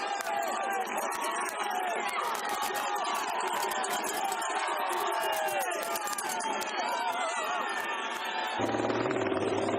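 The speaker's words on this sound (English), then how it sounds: "Look at the size of the crowd on this King of the Mountains." Large roadside crowd at the King of the Mountains summit on the Côte de Wigtwistle during the Tour de Yorkshire cycle race, cheering and shouting in a loud continuous roar that shifts abruptly near the end.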